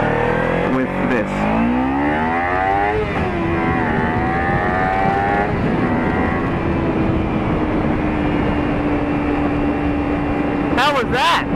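Kawasaki Ninja 300 motorcycle accelerating from a standstill to 80, its engine pitch climbing through several gear changes and then holding a steady drone, heard close with wind noise throughout.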